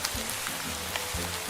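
Steady rain hisses across the Minecraft world as a continuous, even wash with faint low patter, no voices and no change in intensity.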